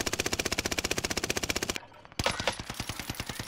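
Rapid automatic fire from an Armaguerra 43 submachine gun in a Call of Duty game, a fast even stream of loud shots, a short pause, then another burst.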